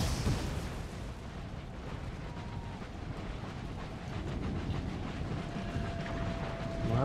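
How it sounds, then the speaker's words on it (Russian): Low rumbling booms of distant cannon and howitzer fire in the video game Empire: Total War roll continuously, deep and muffled, with no clear individual shots standing out. "не будем мешать пушкам и гаубицам"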